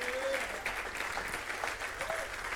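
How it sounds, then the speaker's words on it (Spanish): A church congregation claps for the Lord, steady sustained applause from a crowd in a reverberant room, continuing evenly throughout. "Dele palmas al Señor"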